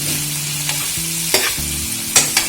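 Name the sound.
stirring and cooking Nepali masaura curry in pan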